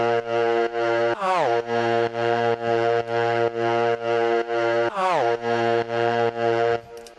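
A dry EDM atmosphere synth with no effects plays a sustained, buzzy, harmonically rich tone. It pulses in steady repeated chops, and the pitch swoops twice.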